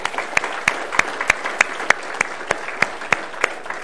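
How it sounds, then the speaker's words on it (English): A church congregation gives a round of applause, heard up close as a sparse run of crisp, evenly spaced claps, about three per second, over a quiet room. "So let's just give them a round of applause."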